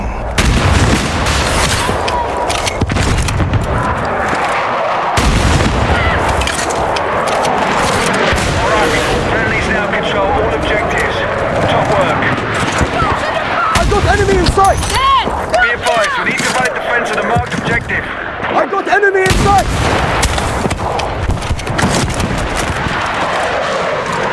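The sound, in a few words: gunfire in the video game Battlefield 6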